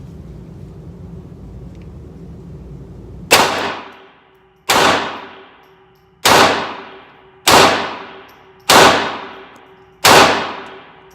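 Six sharp Taurus TX22 pistol shots ring out at a range after a quiet stretch, evenly spaced about every one and a half seconds, each loud crack trailing off in a short echo.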